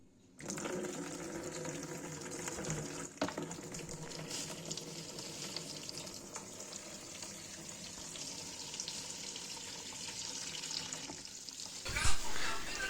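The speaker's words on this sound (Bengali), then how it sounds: "এদিকে আমি পালং শাকটা ধুয়ে পরিষ্কার করে নিচ্ছি" Running water splashes steadily while fresh spinach is rinsed by hand in a home kitchen, a continuous close wash with a brief louder splash near the end.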